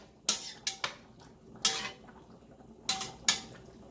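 A metal spoon clinks sharply against a pot five or six times while sugar is added to a simmering tomato pasta sauce. The taps come in irregular pairs, close and fairly quiet, with no talking.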